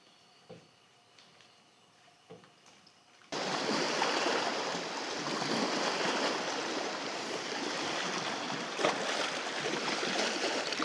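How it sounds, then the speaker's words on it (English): Lake waves slapping against a canoe while paddling into a headwind on a Canadian wilderness lake; steady loud wash and splashing that starts abruptly after a few quiet seconds of faint ticks and continues unbroken, no voices. "The waves are coming in pretty hot."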